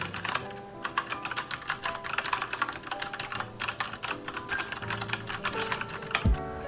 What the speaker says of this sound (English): This is the keyboard.